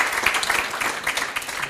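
Audience at a business drinks gathering applauding a person invited on stage, a brief burst of dense, steady clapping from a crowd in a room.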